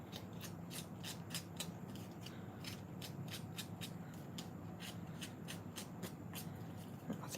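An old pair of scissors scrapes along paper edges to distress them for crafting, a steady rapid rasping that runs throughout at low level against a quiet room.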